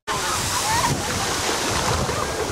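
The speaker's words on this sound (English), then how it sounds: "the waves. The current's so strong. I think it's high tide." Ocean waves surging at high tide with a strong current, a loud, steady roar of surf and wind buffeting close to the microphone with no break.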